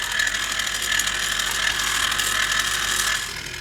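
A DASH My Pint electric ice cream maker churns steadily at close range, a continuous whirring motor with a fine ratcheting, gear-like clatter running throughout, alone with no talk.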